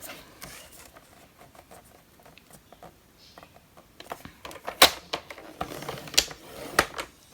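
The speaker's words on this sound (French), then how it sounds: "je vais venir marquer un premier pli" A sheet of paper, a rectangle of 21 by 14.8 cm, being folded and creased by hand; faint rustling, then sharper crisp snaps and presses as the crease is marked close by.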